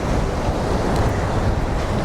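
Ocean waves on a Fuerteventura beach, a dense steady wash of surf mixed with heavy wind rumble on the microphone, no voices.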